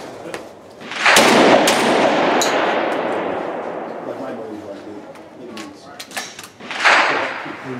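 A tactical shotgun fires twice, with a loud, booming report that rings and decays slowly, then a second blast near the end, and voices heard among the shots.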